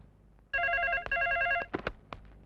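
A telephone bell rings in a quiet room, one electronic double trill at moderate loudness, followed by a few clicks and knocks as the handset is picked up.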